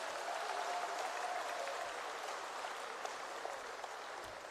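Steady applause from a ceremony audience at a provincial National Senior Certificate results announcement, a dense, even clatter of clapping held at moderate, fairly distant level for several seconds with no talk over it.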